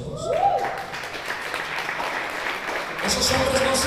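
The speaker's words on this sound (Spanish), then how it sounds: "Vamos a dar un fuerte aplauso a Dios" A church congregation breaks into steady applause filling the room, with a brief voice and some shouts rising at moments as the clapping carries on.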